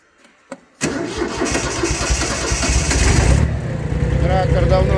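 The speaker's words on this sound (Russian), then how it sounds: "Трактор давно не заводился." A Hinomoto C174 mini tractor that has not run for a long time cranks and fires, its small diesel engine catching abruptly and settling into a loud, steady idle close by, with a voice speaking briefly near the end.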